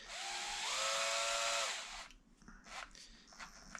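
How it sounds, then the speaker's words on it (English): A small high-pitched drill drilling plastic whines for about two seconds, its pitch stepping up briefly, then stops, leaving faint clicks and handling noise. "this is a little teeny tiny drill"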